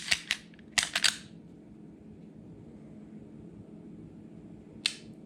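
A Springfield XD Mod 2 9mm subcompact pistol gives a quick cluster of sharp metallic dry-fire and trigger-reset clicks, followed by quiet room tone and then one more crisp click near the end.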